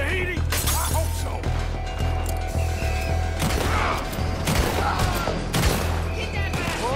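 Chaotic gunfight in Red Dead Redemption 2, with dense overlapping gunshots and crashing impacts over a steady low rumble throughout, mixed with game voices.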